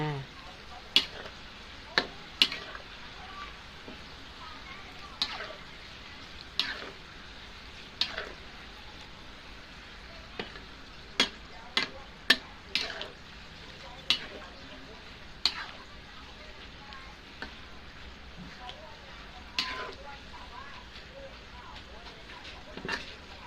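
Garlic frying in a pan and being stirred, a steady close sizzle with scattered sharp spatula clicks and taps against the pan throughout.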